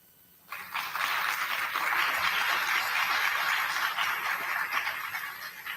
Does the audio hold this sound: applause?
yes